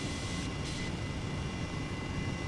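An Airbus H135 helicopter in Flight Simulator 2020, flying around Chicago, gives off a steady, unbroken engine and rotor drone. The whoosh is even and constant, with no voices.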